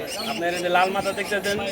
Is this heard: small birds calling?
yes